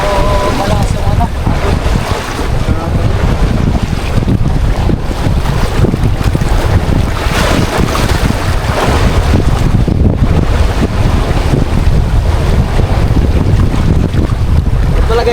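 Strong sea current and choppy water surge around a small boat off an island, with a steady, loud rush of water and wind buffeting that carries on without a break.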